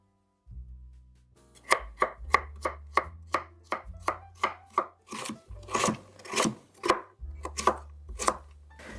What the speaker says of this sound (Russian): Морковь режу средними кубиками.